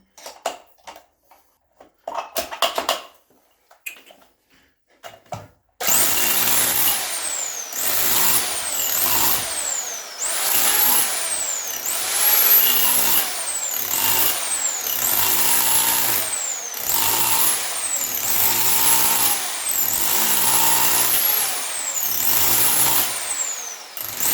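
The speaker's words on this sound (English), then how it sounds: "now we can change to the point chiseling." Bormann BPH4500 Pro SDS Plus hammer drill point chiseling, a few sparse knocks and then a loud close rapid hammering rattle starting abruptly, with rhythmic bursts and pitch sweeps repeating through the rest.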